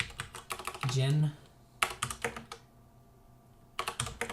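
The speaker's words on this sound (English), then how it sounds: "I'm just going to simply type in gender" Keystrokes on a computer keyboard tapping out a short word in quick clusters, with a voice talking between the bursts of typing.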